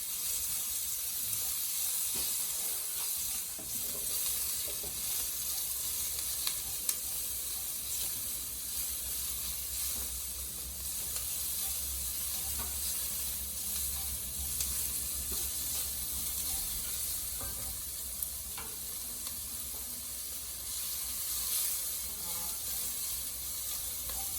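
Garlic and carrot fry in a pan, giving a soft, steady hiss and sizzle with occasional small clicks and scrapes, heard on its own without talk.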